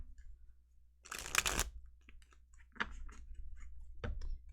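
Tarot cards being shuffled by hand: a dense riffling burst near the start, then a few shorter soft card flicks and taps, close and quiet against a low hum.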